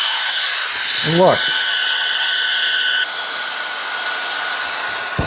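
A cordless electric compressed-air duster with a brushless motor runs at a steady high-pitched whine, pumping up a pool inflatable through a nozzle in its air valve, the tone shifting slightly partway through, with a brief voice near the start.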